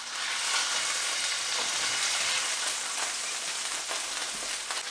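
Shelf-stable pork chop frying in a hot pan over a flame, a steady hiss and crackle of sizzling fat holding loud and close for five seconds, with no talk.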